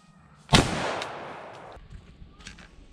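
A single sharp air gun shot cracks out nearby during an outdoor squirrel hunt, then a long fading rumble and faint ambient noise follow.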